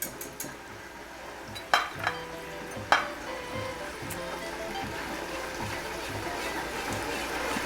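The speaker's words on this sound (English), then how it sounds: "so you just got to keep letting that simmer a little bit" Butter and rum simmer in a pan with a steady low sizzle and bubbling, broken early by a few sharp clinks of a utensil against the pan.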